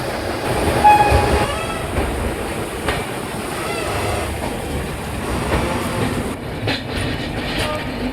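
A local electric train passes close by on the line near Naihati, heard from aboard the Kolkata–Radhikapur Express as a steady rumble with clattering wheels and metallic rail noise lasting several seconds.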